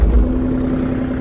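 A Kubota K033-4 mini excavator engine is running, with a brief low rumble at the start settling into a steady, close diesel hum.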